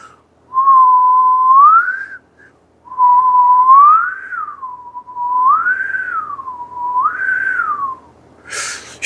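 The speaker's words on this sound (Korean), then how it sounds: "근데 휘파람을 한번 이렇게 불어볼게요" A single person whistles alone in four long phrases, each gliding smoothly up and down in pitch, with short pauses between and a brief rustle at the end.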